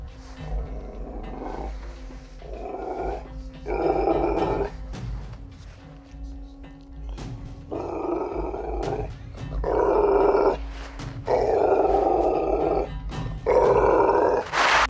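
A dog growls in low, rumbling bursts that come and go across the stretch, fairly close and moderately loud, with quieter pauses between the growls in an indoor room at night.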